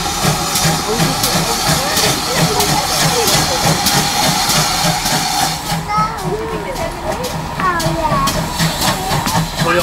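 A steam locomotive hisses and rumbles close by, a continuous loud wash of steam and machinery noise, with people talking over it.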